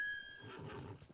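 Horse neighing in the Ghost of Tsushima video game: a single loud, close whinny with a high pitched opening that falls away into a rough, breathy snort, heard alone without talk.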